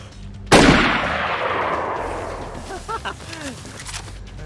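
A single sharp, loud gunshot cracks out in DayZ on the Namalsk map, its echo decaying over a couple of seconds, followed by faint distant pops and brief chirpy bursts.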